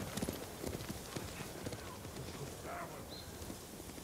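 Horses gallop through the quiet world of the video game Ghost of Tsushima, hooves clip-clopping in a rapid, uneven patter at a moderate distance, with a brief whinny and faint ambient birdsong behind them.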